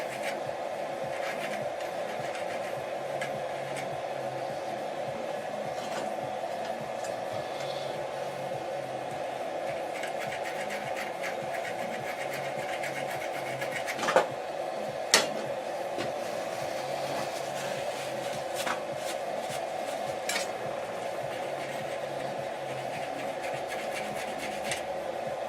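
A hand file takes burrs off freshly cut 16DP metal change gears for a Colchester Bantam lathe. Close rasping strokes play over a steady workshop hum, with two sharp knocks midway.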